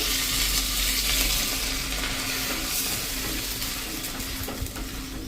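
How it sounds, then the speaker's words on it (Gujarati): Pav buns toast on a tawa in bhaji and butter for street-style pav bhaji, a loud, dense, steady sizzle close to the listener, with no talking over it. "હવે એમાં જ આપણે આ પાવ શેકી લેશું આ રીતે"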